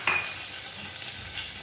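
Dal cooks in ghee over a low flame for Rajasthani dal bati, giving a soft, steady sizzle with a small clink of a spoon at the start, close and fairly quiet, with no talk.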